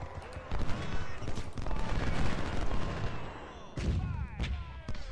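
Musket volleys from soldiers in the Ultimate General Civil War game crackle as a dense, continuous rattle of gunfire, swelling and dipping with booming hits, while a voice speaks over the battle.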